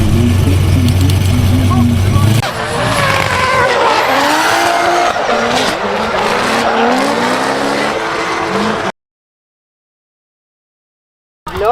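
Race car on the Val de Vienne circuit at a French championship round, engine revving and rising in sweeping bursts while tires squeal and skid, ending abruptly in silence.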